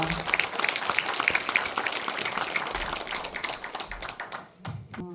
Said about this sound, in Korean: 여러분 따뜻한 박수 다시 한번 보내주시기 바랍니다.